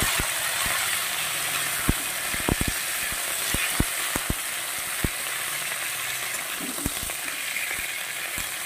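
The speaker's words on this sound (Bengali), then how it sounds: "এই পর্যায়ে আমি দিয়ে দেব ব্রোকলিটাও, এবার একসঙ্গে ভেজে দেব।" Half-fried potatoes and broccoli frying together in a pan, a continuous loud sizzle with scattered clicks and scrapes of a stirring spoon, close and steady throughout.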